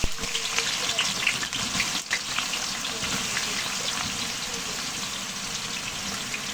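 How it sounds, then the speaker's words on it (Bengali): Sliced onions fry in a big batch of hot oil for chicken biryani cooked for 50 people, giving a loud, steady, close sizzling hiss that barely changes, with no talking over it. "পেঁয়াজটা দেওয়ার পরে ব্রাউন কালার হওয়া না পর্যন্ত ভেজে নেব"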